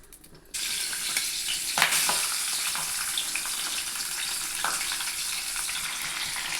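Mustard and fenugreek seeds drop into hot oil for a small-fish curry, bursting into a sudden loud sizzle that holds steady with a couple of crisp spatter pops, up close and with no voices.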